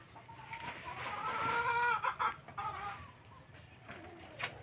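Chickens cluck and murmur close by, a cluster of soft calls rising and fading, with a faint background hum.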